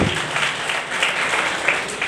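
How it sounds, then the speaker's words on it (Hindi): Steady applause from a crowd at a NEET coaching ceremony, dense and continuous clapping throughout with no voices standing out. "तालियां बजते रहनी चाहिए।"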